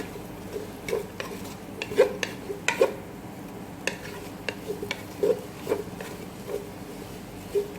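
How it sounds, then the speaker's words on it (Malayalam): Sliced onions being stirred in a pan with a spatula, giving scattered light scrapes and taps against the metal over a faint sizzle, close but fairly quiet. "ഇനി അത് ഒന്ന് വാടി വരണ വരെ ഒന്ന് സ്റ്റിയർ ചെയ്ത് കൊടുക്കാം"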